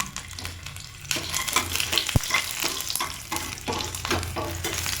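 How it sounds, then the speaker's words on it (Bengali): Dried red chillies and garlic cloves sizzle and crackle in hot oil in a pan, a steady frying hiss with stirring scrapes and one sharp clink near the middle, close and fairly loud, no voices. "তেলের মধ্যে দিয়ে দেবো শুকনো লঙ্কা আর দিয়ে দেবো কয়েকটা রসুন।"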